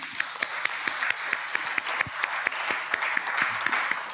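Audience applause at a public audition for a heritage innovation prize, steady and moderately dense clapping from a seated crowd that runs the full length, with a faint low hum underneath.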